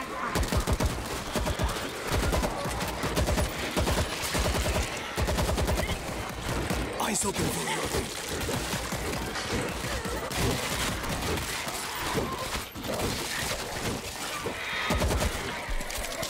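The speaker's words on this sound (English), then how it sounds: "Those shots came from the bus." Dense gunfire rattles throughout a zombie fight in the World War Z video game, set in Tokyo, with loud bursts and crashes layered over game sounds and a brief spoken line.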